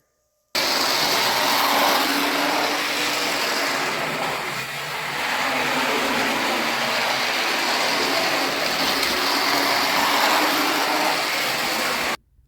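An old Bowser trolley toy train running on its open-frame motor, producing a loud, steady, harsh whirring roar that starts abruptly, holds nearly constant with a slight dip midway, and cuts off sharply at the end.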